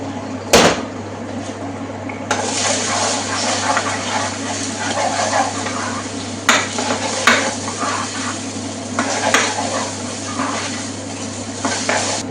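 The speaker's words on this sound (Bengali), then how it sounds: "ফ্রাই করে নিচ্ছি" An egg fries in a pan for chicken fried rice, a continuous sizzle mixed with scraping, clinks of a utensil against cookware and a few sharp knocks, close and fairly loud.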